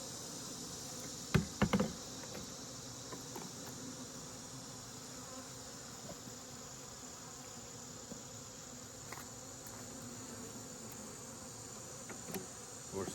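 Honey bees from a small hive hum in a steady, faint drone, with a few brief knocks and taps near the start.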